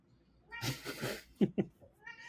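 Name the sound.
cat meowing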